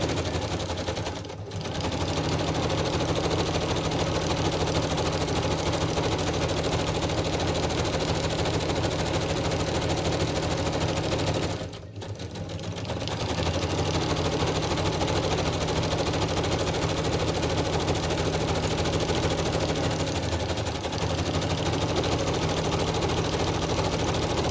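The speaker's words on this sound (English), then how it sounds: "If you don't like the sewing machine, turn the volume down" Sewing machine running a zigzag stitch around the edge of a handmade mini album, a loud, continuous rapid mechanical whir that stops briefly twice before starting again.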